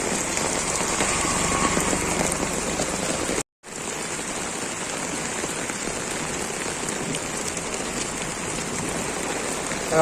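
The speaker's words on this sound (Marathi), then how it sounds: "पाऊस चालू झालेला आहे आणि फुल पूर्ण जोरात आहे पाऊस" Heavy rain pours on a street in Bhandup, water running along the road, a dense steady roar that stays loud and close throughout, broken by one brief dropout near the middle.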